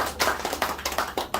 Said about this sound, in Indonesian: Boleh tepuk tangan lagi sekarang buat saya.